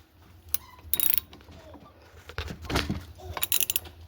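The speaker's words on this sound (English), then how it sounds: "for the spark plug I have a 5/8 16mm spark plug wrench right here" A 5/8-inch 16mm spark plug wrench loosens the spark plug on a Stihl SH56C leaf blower, heard as a few short close ratcheting clicks and metallic scrapes in bursts against a quiet background.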